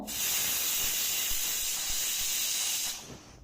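A loud, steady hiss of escaping steam from a pressure cooker cooking mutton seekh kebab, sustained for about three seconds before cutting off abruptly, close by with no talking.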